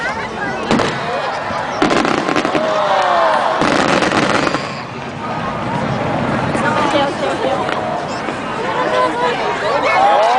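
A fireworks display over Yokohama: repeated bursts and crackling shells boom at intervals above a busy crowd, with people chattering and cheering throughout.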